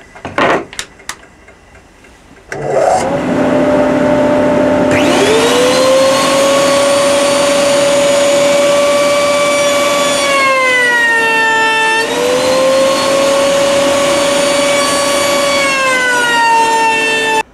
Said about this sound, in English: we're going to sand the things. We're going to start off with a coarse 80 grit just to get down and dirty.